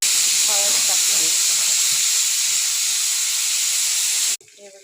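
Snake gourd sautéing with cooked chana dal, garlic and turmeric in a hot pan, giving a loud, continuous hissing sizzle that cuts off abruptly near the end, with a voice faintly under it.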